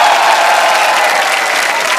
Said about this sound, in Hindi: एक बार जोरदार तालियां हो जाए पूरे दिल्ली वासियों के लिए